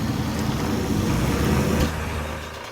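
A Land Cruiser in a video game, pulling a trailer through heavy mud, drones with a loud, rough engine roar that suddenly drops away near the end as the engine stalls.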